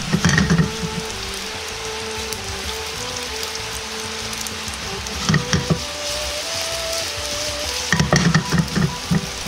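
Chikuwa pieces dusted in potato starch fry in a pan for a twice-cooked-pork-style dish, giving a steady soft sizzle throughout with a few louder bursts of stirring or turning near the start, middle and end.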